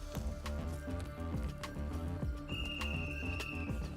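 A sustained shrill whistle blast rings out midway, heard over clip-clopping hooves and rhythmic thumping, fairly faint and distant.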